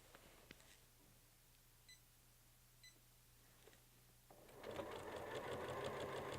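A sewing machine stitches a quilt mounted on a Weightless Quilter frame, starting with faint sparse needle ticks and a few short beeps, then breaking into a louder steady rapid stitching run near the end.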